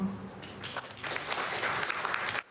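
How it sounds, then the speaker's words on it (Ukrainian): Dense, steady applause from a crowd, a continuous wash of clapping that fades out at the end. "Гучними оплесками вітали професора з Польщі"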